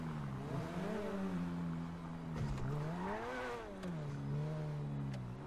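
A car engine in GTA V drones continuously, its pitch rising and falling as the throttle is worked. The steady, moderately loud revving carries throughout with no speech.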